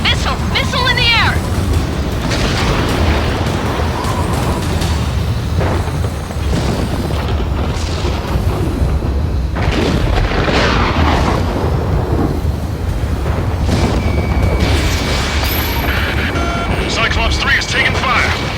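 Booming missile explosions and dense combat rumble from the Ace Combat 7: Skies Unknown air-combat game fill a loud, continuous mix, with radio-style voices talking over the din.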